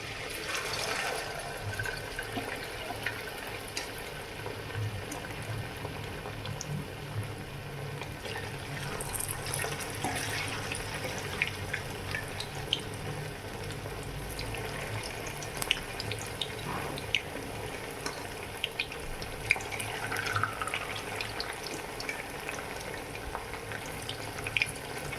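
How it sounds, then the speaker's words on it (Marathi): Paneer pieces deep frying in oil for restaurant-style paneer chilli, a steady bubbling sizzle that runs without a break for the full stretch, with some faint clinks and kitchen noise on top. "मी हे पनीर डीप फ्राय करत आहे"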